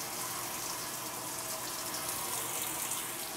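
A washing machine takes in water, producing a continuous, even rush of flowing water that stays steady from start to finish.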